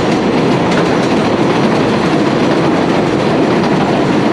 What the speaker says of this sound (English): And there goes the 7 train.